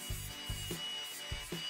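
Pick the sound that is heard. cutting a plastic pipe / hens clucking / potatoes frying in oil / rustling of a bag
cutting a plastic pipe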